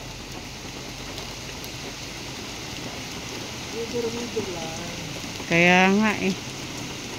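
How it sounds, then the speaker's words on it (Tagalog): Steady rain falls during intermittent afternoon showers, a constant broadband patter running throughout, with people talking briefly over it. "palagi nang pabugso-bugso na yung ulan."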